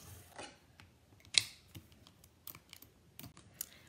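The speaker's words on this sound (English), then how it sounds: "Now, we also need to cut some clouds" Scissors snip paper clouds during a card-making session, a few quiet, sharp cuts and clicks spaced irregularly across a few seconds, close by with no talking.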